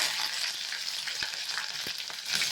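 Garlic, ginger and curry leaves frying in a pan of oil with mustard, cumin and fennel seeds, giving a steady close sizzle with a few soft stirring knocks.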